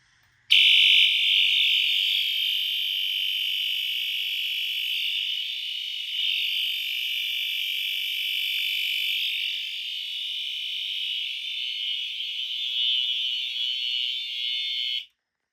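A smoke detector being tested sounds a loud, steady high-pitched alarm tone that starts abruptly, holds continuously for about fourteen seconds, then cuts off, heard alone with no talking.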